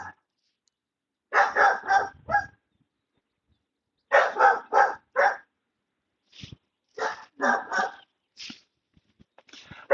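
A female dog, normally quiet, barks outdoors in repeated rapid bursts of three to five barks separated by short silences, loud and close, with a few fainter yips near the end.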